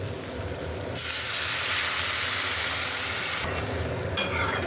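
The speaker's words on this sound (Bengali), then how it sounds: "দেখো আলুটা ভেজে নিয়েছি, জল দিয়ে দেবো" Water poured onto fried potatoes in a hot pan sets off a sudden loud, steady hissing sizzle that holds for a few seconds, then drops back to a gentler crackle.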